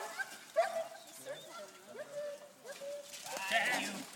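A herding sheepdog named Siobhan works a flock of sheep, giving a few scattered yips and barks amid bleating and a person calling out commands close by.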